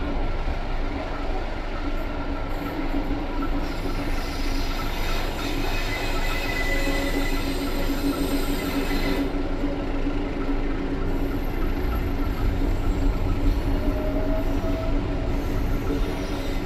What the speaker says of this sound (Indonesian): kereta api Joglo Semarkerto yang saya naiki sudah diberangkatkan dari stasiun Solo Balapan